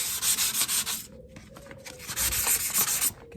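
A steel tow bar is wet sanded with fine 400 to 600 grit sandpaper, producing close, loud, rhythmic rubbing strokes in quick back-and-forth bursts with a brief pause midway.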